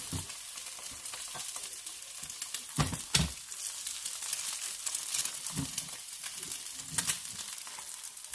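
Eggs frying on an overly hot griddle while being flipped over easy, a soft continuous sizzle broken by a few muffled thumps and scraping spatula sounds, close and fairly quiet.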